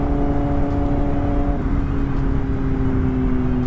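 Kawasaki ZX-10R motorcycle running at full power on a good road, a loud continuous engine drone with steady harmonic tones that shift slightly partway through, no voices.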